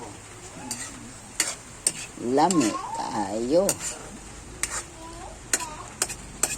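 A spoon stirs and clinks against a pot of sautéed bottle gourd (upo) in a home kitchen. The sharp, irregular taps sound close, with a faint sizzle, and a person talks between them.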